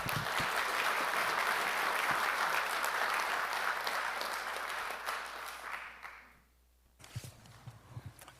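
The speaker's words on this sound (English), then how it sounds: "Please, another round of applause for tonight's Student Showcase." Audience applause at a school board meeting honoring a student showcase, a broad sustained clapping that tapers off near the end, followed by a few scattered claps and faint room noise.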